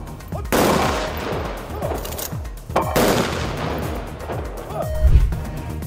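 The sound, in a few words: soldiers firing shots into the air three times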